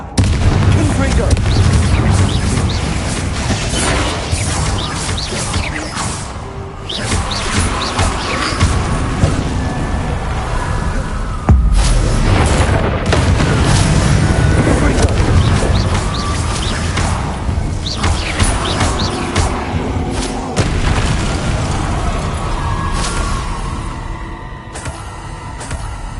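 Repeated booming fire-spell blasts in the video game Hogwarts Legacy, loud and dense throughout, with crashes and bursts layered together and voices talking over the clamor.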